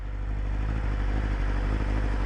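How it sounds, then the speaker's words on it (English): Close by, the cooling fan of a BMW S1000RR superbike blows hard and loud with a constant whirring rush, layered over the bike's steady low idle. "that fan on this bike is loud"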